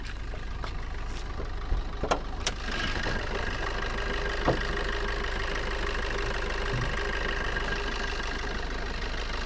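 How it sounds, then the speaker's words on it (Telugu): A 2016 Maruti Suzuki Swift ZDi diesel engine idles steadily with a low, even throb and a light mechanical ticking, heard close up with a few brief knocks near the start and no talking. "సార్ ఇంజన్ బీటింగ్ చూడండి, చాలా నీట్గా ఉంది."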